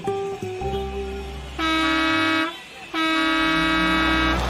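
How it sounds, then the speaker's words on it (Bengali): Two long, loud blasts of a deep bus horn with a brief gap between them, over rumbling engine noise of a vehicle close by. "বাসও এসে গেছে।"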